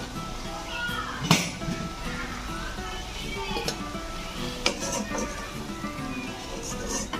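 Raisins fry in hot oil, sizzling steadily up close, with a few sharp clicks and scrapes from stirring.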